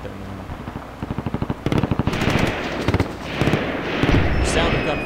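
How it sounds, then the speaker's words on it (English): Rapid automatic gunfire in the video game Hezbollah's Special Force 2, with several loud bursts of rattling shots over a noisy battle background. "Sound of gunfire."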